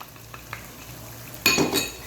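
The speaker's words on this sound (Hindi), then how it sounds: "अच्छे तरीके से मिक्स करेंगे हम इस चिकन में" Whisked yogurt is mixed into raw chicken for biryani with a few soft taps, then a louder burst of wet squelching and spoon-on-pot clinks toward the end.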